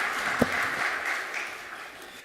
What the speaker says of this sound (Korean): 우리 두 가정에 힘차게 우리 축복의 박수 해주시겠습니다